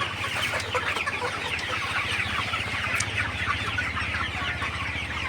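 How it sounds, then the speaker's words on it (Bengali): A crowd of Sonali super hybrid chickens clucks steadily and continuously, many birds overlapping in a dense, busy chorus with no talking. "আপনারা দেখতে পাচ্ছেন আমার মুরগিগুলা"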